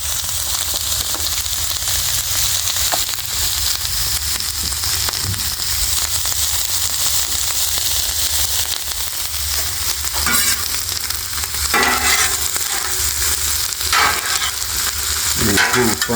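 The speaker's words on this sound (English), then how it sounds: "I'm going to kind of fry this up a little bit, and then we'll add noodles." Shredded cabbage frying in canola oil on a flat-top griddle, a loud continuous sizzle with crackles throughout, plus a few scraping stirs near the end and no talk.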